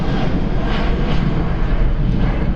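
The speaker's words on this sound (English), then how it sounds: "So that's 2 Airbus A320s we've had going past us close here." An Airbus A320 jet passes close by at Stansted Airport, a loud, steady broadband engine roar that holds with little change across the short stretch.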